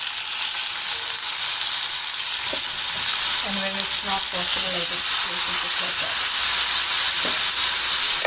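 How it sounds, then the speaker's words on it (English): Olive oil sizzles loudly and steadily as fish pan-fries, a constant frying hiss, while a voice talks briefly over it. "I'm just going to pan fry my fish now"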